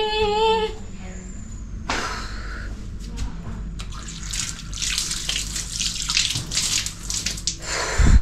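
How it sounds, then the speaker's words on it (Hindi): Running water from a tap splashes steadily as hands and feet are washed, a broad continuous rush with shifting splashes, fairly close, with no talking. "हाथ पांव धो लेती हूँ मैं।"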